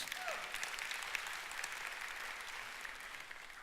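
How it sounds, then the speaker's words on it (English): Scattered, light applause from a church congregation, a thin, polite golf clap spread evenly through the room at low to moderate level, with no voices over it. "Some of you give sort of a golf clap."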